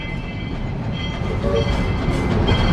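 Steady low rumble inside a stopped Georgetown Loop Railroad train at a station in Colorado, a constant mechanical hum with faint hiss and a brief higher tone partway through, no talking.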